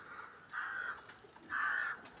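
Two harsh crow caws ring out a second apart, clear and fairly close against quiet outdoor background.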